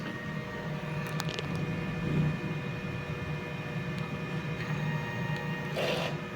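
A DTF printer running a print head cleaning cycle, giving a faint steady mechanical hum with soft whirring and a few brief clicks and rattles, alone without talk.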